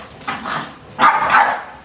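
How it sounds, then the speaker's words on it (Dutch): A short burst of growling and yapping from dogs fighting over food, two rough snarling bursts close by. "De honden hebben ruzie om eten."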